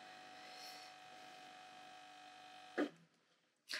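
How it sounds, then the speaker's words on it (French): A household refrigerator gives off a faint, steady electrical hum in a quiet room, broken near the end by two brief louder knocks or clatters. "Mais le frigo fait énormément de bruit"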